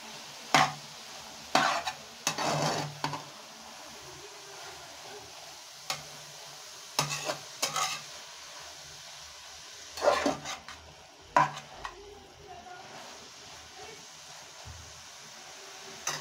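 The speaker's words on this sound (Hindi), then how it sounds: "गाजरों को हम 10 मिनट के लिए पकाएंगे।" Grated carrots for gajar halwa cooking in a pan, with quiet scattered scraping and clinking of a spoon stirring in short bursts over a low background, fairly faint.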